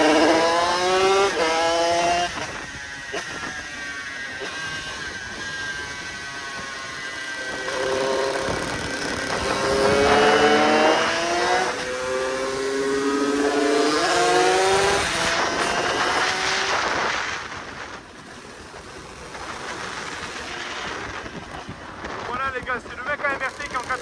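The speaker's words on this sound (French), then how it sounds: "Ah oui, bon, la moto est mal réglée" A badly tuned motorcycle engine runs while riding with colleagues, a rough buzzing drone whose pitch rises and falls repeatedly as the throttle changes, loud and close with wind noise.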